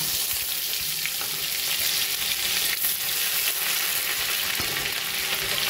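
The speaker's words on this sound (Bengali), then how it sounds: "ওই তেলের মধ্যেই দিয়ে দেবো আমি জিরে, তেজপাতা, এলাচ আর দারচিনি ফোড়ন।" Cumin, bay leaf, cardamom and cinnamon sizzle in hot oil as a whole-spice tempering for a home-cooked Bengali dish; a steady, close frying hiss continues throughout with a few faint scrapes, and no voices.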